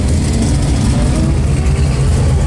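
A Chevrolet Malibu at a drag strip, its engine rumbling loud and close with a heavy, continuous low roar as it revs.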